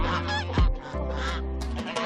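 A flock of geese honking harshly together as they surround and gang up on another animal, loud close calls overlapping in a noisy burst with one sharp squawk.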